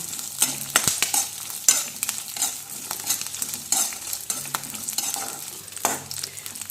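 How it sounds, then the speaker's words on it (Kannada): Seasoning for mandakki oggarane fries in a pan with a crackling sizzle and repeated scraping stirs, moderately loud and close, with no voices. "ಚೆನ್ನಾಗಿ ಫ್ರೈ ಮಾಡ್ಕೊತೀನಿ ಇದನ್ನು"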